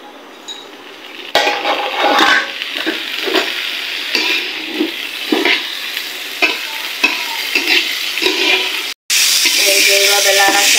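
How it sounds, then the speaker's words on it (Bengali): Boiled loiba fries in oil with a continuous sizzle, broken by repeated stirring scrapes and clinks of a utensil against the pan. Soft talk is heard at times, and near the end there is a short gap followed by a louder hiss. "নামিয়ে এবার এই লইবাটা একটু ভাজা ভাজা করে নিব তেলের উপরে"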